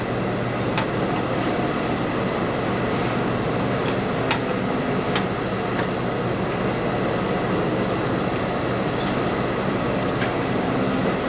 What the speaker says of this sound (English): And now we're going to top stitch right along the edge, nice and close.